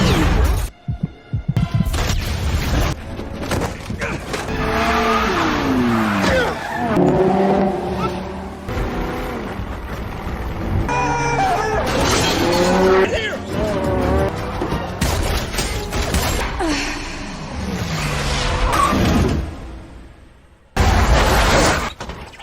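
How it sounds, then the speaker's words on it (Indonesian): Dense film action mix for a road car chase and shootout: roaring car engines, skids and sharp bursts layered over a throbbing score, loud and continuous with a brief dropout near the start and another near the end. "Setelah itu terjadilah baku tembak serta kejar-kejaran di jalan raya."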